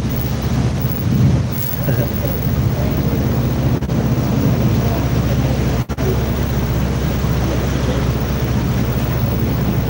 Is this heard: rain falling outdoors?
yes